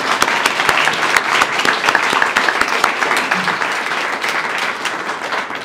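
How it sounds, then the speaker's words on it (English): An audience at a socialist festival's closing rally claps steadily, a dense, loud wash of applause sustained throughout with a few sharper individual claps early on. "and that also deserves some applause"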